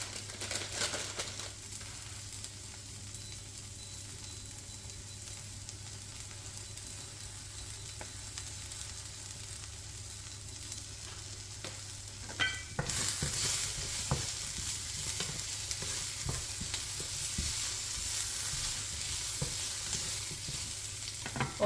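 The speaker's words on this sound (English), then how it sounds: "So now I will add the rice." Rice frying and stirred in a pan for a Brazilian fish-in-coconut-sauce dish, steady sizzle with scraping stir strokes throughout, growing louder and brighter partway through as the frying intensifies, no talk.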